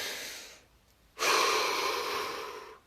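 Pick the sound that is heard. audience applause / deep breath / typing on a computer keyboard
deep breath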